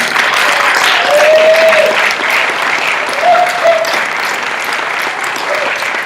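A congregation at a Kaua'i church birthday celebration service applauds the Sacred Earth Choir after its closing number: loud, sustained clapping from a full room, with brief voices or whistles rising above it.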